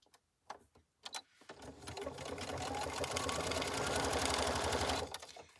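A sewing machine stitches through paper for a waxed envelope, a close, steady rapid mechanical chatter lasting several seconds after a few quiet handling clicks, then stopping.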